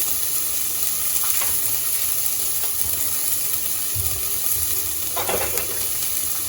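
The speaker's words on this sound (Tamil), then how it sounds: "ஒரு கைப்பிடி அளவுக்கு வந்து நம்ம வந்து பாசிப்பயிறு சேர்க்கணும். இது நல்லா வதங்கணும்." Sprouted green gram sautés in a hot pan, giving a steady close sizzle with a few brief stirring scrapes and louder bursts of hiss; no one speaks.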